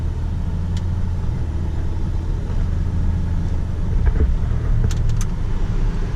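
A Toyota Tacoma TRD four-wheel drive pickup with about 70,000 miles gives a steady, loud engine and road rumble from inside the cab, with a few faint clicks.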